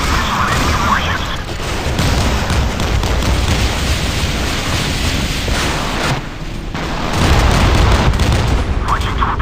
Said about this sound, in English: Firing missile at enemy warships.